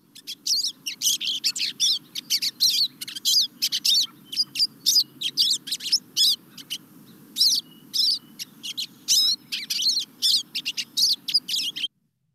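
Pine siskin calls in winter: a rapid series of high, buzzy chirps and twitters repeating in quick bursts, fairly close and clear over a faint low background hum.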